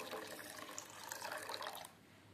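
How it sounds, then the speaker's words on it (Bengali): Rice being washed in water for Basanti pulao, a steady close rush of running water and sloshing that cuts off sharply near the end. "এবার জল দিয়ে ভালো করে আমি ধুয়ে নেব"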